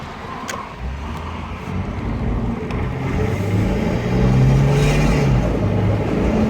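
A 1999 Nissan Pathfinder accelerates on the road, its engine rumble and tyre and wind noise building steadily louder from inside the cabin, with no talk.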